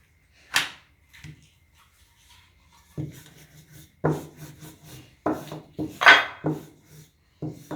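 Dough for gol gappay being rolled out with a rolling pin directly on a kitchen counter, giving intermittent wooden rubbing and rasping strokes in short bursts separated by brief pauses, close and moderately loud.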